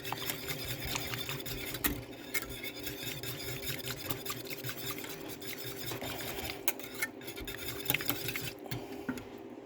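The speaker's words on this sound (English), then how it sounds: "We will be whisking it." A whisk scrapes and rattles rapidly against a pot while flour and water thicken turkey gravy, a continuous busy metallic stirring at close range, steady throughout with no talking.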